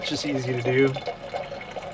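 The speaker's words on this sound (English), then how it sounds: "I'm gonna fill this up to the safety line" Water runs from the faucet of a Dometic tank into a pot inside a Tacoma overland camper, a soft steady trickle close by under a person's speech.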